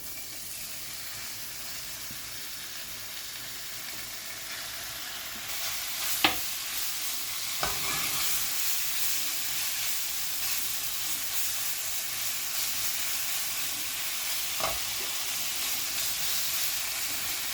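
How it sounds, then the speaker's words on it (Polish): Beef for stroganoff fries in a pan over high heat, a continuous even sizzle with a couple of sharp utensil taps, heard alone at moderate level. "Wykładamy mięso na patelnię i obsmażamy 5 minut."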